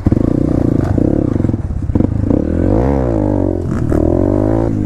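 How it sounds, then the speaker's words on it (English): A 2019 Honda dirt bike rides a Nebraska trail nearby, its engine droning and revving up and down with rattling clatter from the ride, loud and steady throughout. "Oscar, the kid on the America Honda, yeah, that's a 2019."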